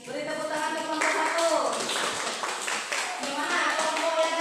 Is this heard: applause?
yes